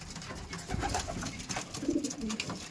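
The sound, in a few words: racing pigeons cooing in loft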